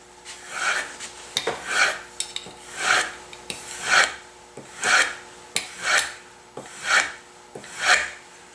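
A hand plane blade is drawn bevel down across a plywood strop charged with polishing compound, making about eight even, rhythmic rasping swipes, close and alone.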